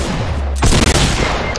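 Gunfire in Fortnite as two players shoot at each other: a sudden loud burst of shots erupts partway through, dense and close, with a brief rapid stutter of reports.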